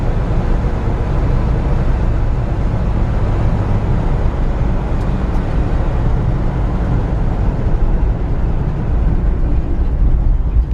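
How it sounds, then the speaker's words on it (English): A 1966 Ford F100 pickup truck on the road, heard from inside the cabin as a steady, loud broadband rumble of wind and road noise with a low engine drone underneath, unchanging for the whole stretch. "Aside from the wind noise, listen to how quiet this truck is."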